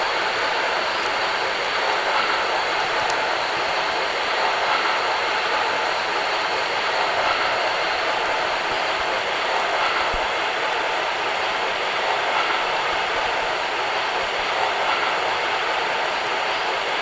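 BR 145 electric locomotive in the MSTS train simulator running over uneven track: a steady, dense rumbling roar with broad rattling noise that holds at an even level for the whole stretch, without any voices.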